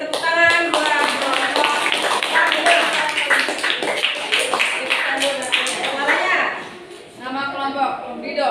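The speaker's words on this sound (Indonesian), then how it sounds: "Beri tepuk tangan buat kelompok yang kedua." A classroom audience claps continuously for a presenting group during a university teaching session, a dense and steady round of applause that fades near the end as voices come in.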